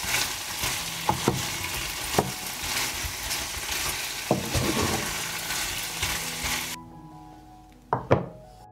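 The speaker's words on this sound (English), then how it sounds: "I put the pan on the stove and fry everything until done." Meat sizzles and fries in a pan on the stove, a loud steady crackle with occasional stirring knocks and utensil taps, fading near the end before a couple of sharp clunks.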